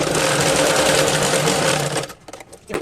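A sewing machine stitches fabric for a baby top in a fast, steady, close whirring chatter for about two seconds, then stops, leaving faint handling sounds.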